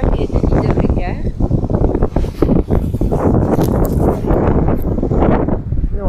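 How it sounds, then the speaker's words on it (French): Steady wind buffeting the microphone on the Carretera Austral in Chile, roaring and gusty throughout, with a person talking over it. "Donc j'essaye de vous protéger du vent"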